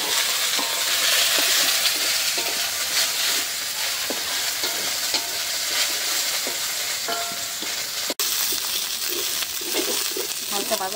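Taro leaves fry loudly in a pan while being stirred. A dense, steady sizzle is broken by light scraping and clinking strokes throughout, with one sharp click near the end.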